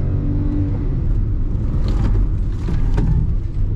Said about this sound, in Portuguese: Mesmo no modo Sport, o câmbio demorou um pouquinho para entender que eu queria acelerar.